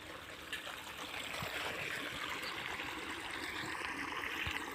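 Irrigation water trickles and runs steadily through furrows of a planted field, a soft, continuous gurgling flow heard close by.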